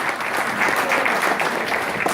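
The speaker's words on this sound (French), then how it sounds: "On applaudit bon Dieu." Congregation clapping during a Sunday church service, a steady burst of dense applause from many hands, fairly close and continuous throughout.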